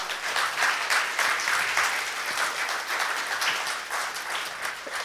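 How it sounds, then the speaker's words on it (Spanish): Church congregation bursting into applause for God, a full, sustained round of many hands clapping at moderate distance, swelling slightly and staying even throughout. "dale un fuerte aplauso a Dios"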